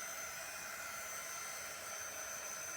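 A hair dryer blows steadily on a wings-design hoodie, a constant loud broadband whoosh with no breaks, heard up close and alone.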